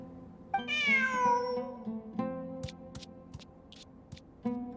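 Cat in Genshin Impact gives one clear, drawn-out meow, followed by faint ticks and small game sounds in a quiet scene.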